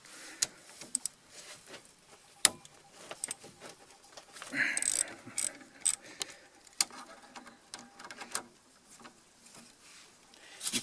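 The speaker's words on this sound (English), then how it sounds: "So it's a 13mm socket. You can just use a ratchet." A hand ratchet on a 13mm socket removes the brake caliper bolts on a Peugeot 206 during a rotor and pad change, giving bursts of quick mechanical clicks and a few metallic knocks close by.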